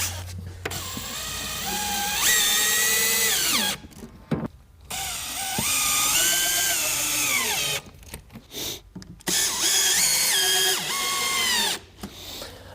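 A power drill drives installation screws into a shutter side frame for a bi-fold track system, sounding in several sustained whirring bursts with rising pitch, separated by short pauses, loud and close with no talk.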